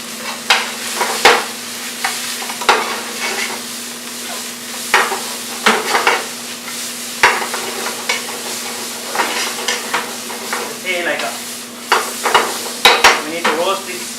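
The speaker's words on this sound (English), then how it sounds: "We need to roast these spices nicely along with the tomato paste" Garam masala, cumin powder and coriander powder roast with tomato paste in a pan for chicken curry, a steady low sizzle broken by repeated loud spoon scrapes and knocks against the metal, close and busy.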